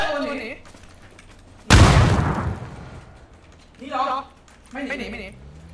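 A single loud grenade explosion in a video game bursts suddenly and rumbles away, with voices talking briefly before and after it.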